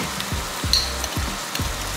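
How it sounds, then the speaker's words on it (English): Ginger garlic paste sizzling in a frying pan while Punjabi lamb biryani is being cooked, giving a continuous frying hiss with a few soft clunks from the pan, close and moderately loud, with no talk. "So we're adding some of that in the pan."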